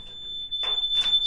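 Fire alarm panel giving a trouble signal after a ceiling smoke detector is pulled off its base, a steady high electronic tone sounding continuously, joined by a couple of brief rustling knocks nearby.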